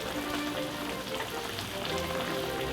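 Chicken in Roquefort sauce reducing in a hot pan, giving a steady, close sizzle and bubbling that runs evenly throughout with no talk.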